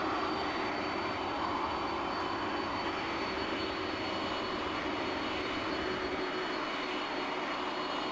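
Flaps extending on an Airbus A300-600R in Microsoft Flight Simulator, heard as a steady, loud, broadband mechanical whir and drone that holds unchanged over the whole stretch, with no voices.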